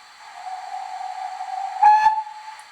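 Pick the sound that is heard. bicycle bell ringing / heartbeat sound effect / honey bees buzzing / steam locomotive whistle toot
steam locomotive whistle toot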